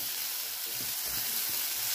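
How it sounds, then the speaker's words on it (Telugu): Onions fry in a pan for a green gram curry, giving a constant soft, bright sizzle close by, with a few faint low knocks partway through and no voices. "ఉల్లిపాయలు వేగాయి"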